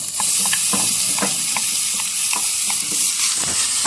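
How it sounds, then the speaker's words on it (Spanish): Bacon frying in a cast iron pan gives off a steady, close sizzle with crackling pops and the scrape of stirring throughout, with no voices. "Vamos a tener nuestro hierro fundido, y aquí es donde vamos a poner primeramente nuestro tocino para que suelte la grasa"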